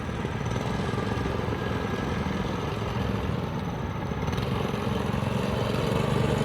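Small engine of a mini monster bike built from scrap parts runs steadily and fairly loud throughout, a continuous rough buzzing drone with no pauses.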